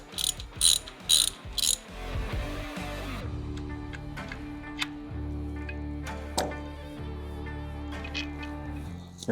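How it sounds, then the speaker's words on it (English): A ratchet loosens a T45 Torx bolt on the foot control mount of a 2018-or-later Harley-Davidson Softail. Quick bursts of sharp, close ratcheting clicks come first, then a steady mechanical hum with a few scattered clicks. No one speaks. "you want to make sure you grab this when you're loosening the second bolt"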